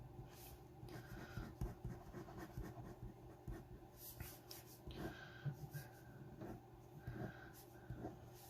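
A Bic Atlantis and other pens scratch and glide across paper in quiet, irregular strokes, close and faint, as each pen is tried out.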